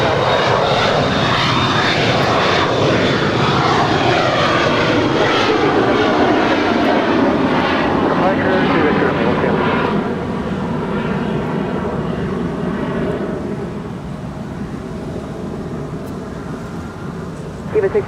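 A Cessna Citation jet takes off from runway 25 right at LAX, its loud, steady engine roar filling the air with whining harmonics that sweep downward as it climbs away and slowly fades.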